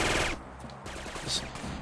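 Short burst of video game gunfire in Syphon Filter 2, a quick crackle of shots at the start followed by quieter rattling, with low background noise.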